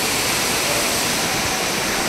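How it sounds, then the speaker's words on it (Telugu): Water rushing along the roadside on a walking pilgrimage from Hindupur to Tirumala makes a loud, continuous, broadband roar, steady throughout with no voices. "అటు సైడ్ నీళ్ళు పోతున్నాయి, రైట్ సైడ్."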